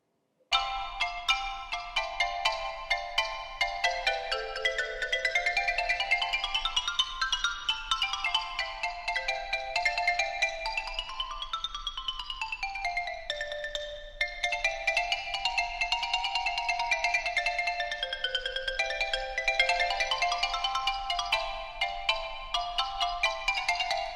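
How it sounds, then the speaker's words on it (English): Xylophone playing quick, bright, ringing notes in rapid runs that sweep up and down continuously, clear and alone, with no voices. "The xylophone generally has a smaller range than the marimba, and it has a different kind of sound."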